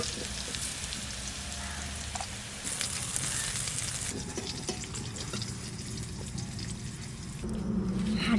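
Fried potatoes sizzle quietly in a pot of khichuri, a faint, even hiss with soft crackles and occasional clinks, and no voices.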